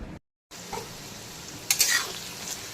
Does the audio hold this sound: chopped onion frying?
yes